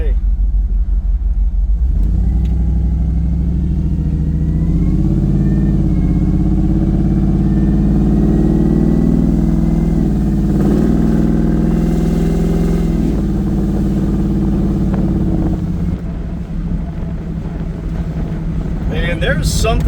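A built Ford SVT Lightning single cab pickup truck cruises down a back road on a summer evening, its engine giving a loud, steady low rumble that swells slightly as it pulls and then eases off near the end.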